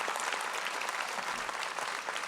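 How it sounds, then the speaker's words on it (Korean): Outdoor crowd at a peace and unification prayer rally at the War Memorial plaza in Yongsan, Seoul, applauds continuously, a broad, sustained roar of clapping that stays level throughout. "Please welcome him with a big round of applause."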